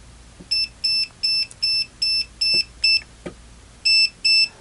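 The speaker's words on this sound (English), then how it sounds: "We have to get right close to the live wire here for it to" An OWON CM2100B clamp meter beeps as it detects live mains voltage: a rapid string of short, evenly spaced, high-pitched beeps, briefly interrupted, then resuming, close and clear.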